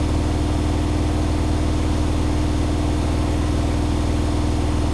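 A Hotpoint HE7L492 washing machine spins unbalanced at 1400 RPM with a suds lock on the final spin. It makes a loud, steady, close drone with fast rhythmic thumping throughout, and no talking.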